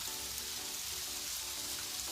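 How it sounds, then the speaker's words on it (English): Heavy rain falls in a dense, steady hiss with no pauses, and a faint low hum sits underneath it. "It's raining harder"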